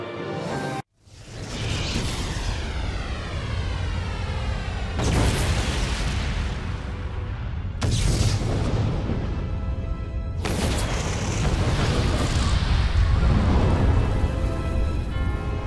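Eclipse Cannon blasts from Shadow the Hedgehog roar in a long, continuous barrage: a sweeping whoosh followed by several booming explosions, each kicking in with a sharp onset and rolling on loud and sustained.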